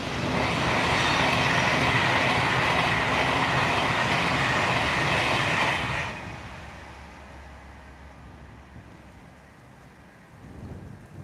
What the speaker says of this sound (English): we've got the fancy Pendolino coming, the one with all the trees on it